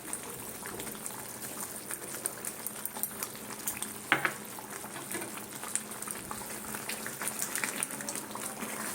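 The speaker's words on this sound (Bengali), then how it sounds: "বাপরে হাতের মধ্যে ছিটিয়ে আসছে মশলাদার টক মিষ্টি আচার" A spicy sour-sweet pickle boils and spatters in a pan, with a constant bubbling fry and scattered pops, including one sharper burst midway, heard up close without speech.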